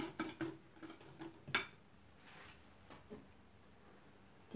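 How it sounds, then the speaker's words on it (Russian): Whisk or spoon clinking and scraping against a bowl while butter, sugar and eggs are mixed for homemade cookie dough, quiet irregular taps and scrapes, close and faint, with no talking. "Еще раз немножко перемешиваю."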